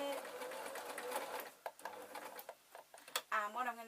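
Sewing machine stitching a bat soft toy, running in a steady rapid chatter that breaks into short bursts and stops, with a voice talking over the latter part.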